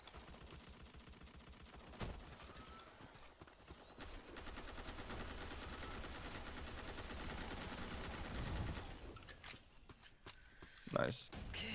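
Rapid gunfire bursts from the online shooter Black Squad in a hard player-versus-enemy round, dense and continuous over game noise, with a player talking over it.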